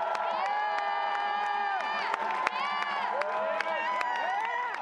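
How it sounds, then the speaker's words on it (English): A large crowd of student protesters roars with cheers, whoops and shouts outside Wheeler Hall at UC Berkeley, a sustained, dense wall of voices with sharp peaks of excitement. "The crowd outside roared with cheers as the students were escorted out of Wheeler Hall."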